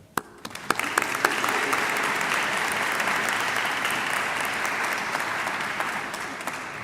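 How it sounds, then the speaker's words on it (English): An audience applauds an honorary society at a 2025 honors convocation: a few scattered claps quickly swell into full, sustained clapping from a large crowd that holds steady for several seconds in a big hall. "Applause for that."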